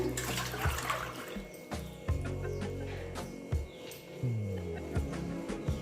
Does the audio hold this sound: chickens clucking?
no